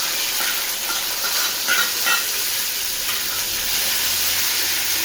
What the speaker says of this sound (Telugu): టమాటాలు, నేను 2 టమాటాలు వేసానండి చిన్నవి. అది నూనె వేయాలి.